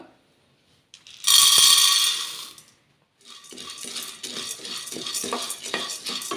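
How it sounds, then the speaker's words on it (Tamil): Roasted gram dry roasting in a kadai, starting with a loud rattling pour of the dry lentils, then a pause, followed by crisp repeated scraping and clattering as they are stirred. "இந்த பொட்டுக்கடலையை வந்து இப்போ நம்ம வந்து ட்ரையாக வறுத்து எடுத்துக்கலாம்"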